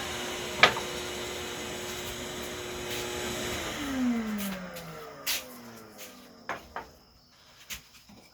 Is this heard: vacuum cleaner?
yes